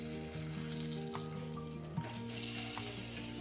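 Boiled eggs sizzle softly while frying in biryani masala, a faint, steady crackle beneath quiet background music with a small clatter midway.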